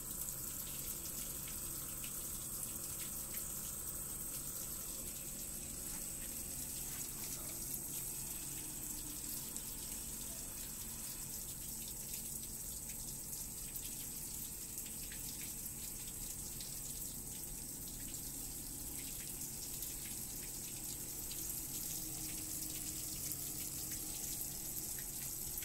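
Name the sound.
electric water pump flowing water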